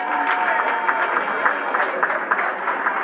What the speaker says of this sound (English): Please give them a rousing round of applause.